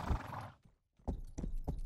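A horse in a video game gives a breathy neigh, then after a pause its hooves clop in a few heavy, spaced footfalls close by.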